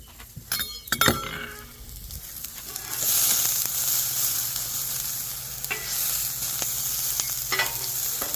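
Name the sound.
udon noodles and chicken sizzling on hot griddle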